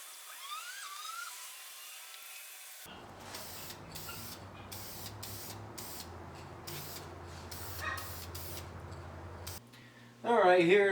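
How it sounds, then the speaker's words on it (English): Lacquer hisses from an aerosol spray can onto Halloween candle holders in a series of short, close bursts with brief gaps, followed by a short tonal sound at the end. "Now I can put spray lacquer on all of them."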